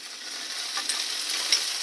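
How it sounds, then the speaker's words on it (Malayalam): Onions, dried red chillies and curry leaves sauté in hot oil with a continuous bright sizzle and a few light stirring scrapes, close and fairly loud, with no talking. "ഉള്ളിയും വറ്റൽമുളകും എല്ലാം ചേർത്ത് ഒന്ന് വഴന്നിട്ടുണ്ട്."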